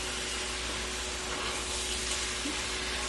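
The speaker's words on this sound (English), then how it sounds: "And then I'm just gonna mix that up" Meat in a sauce for spaghetti is mixed in a hot pan, a steady close hiss of sizzling with faint stirring underneath and no talk.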